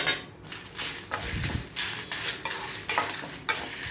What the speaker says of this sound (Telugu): ఇప్పుడు ఎండుమిర్చి వేసుకొని ఒకసారి వేపాలి.